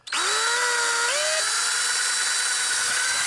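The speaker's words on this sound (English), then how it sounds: "So I know where it is and that I won't hit it with the drill." Power drill spinning up and boring into a plastic Xbox One controller shell, a sharp whine that climbs in pitch, dips as the bit bites, then holds a steady high grind, loud and close.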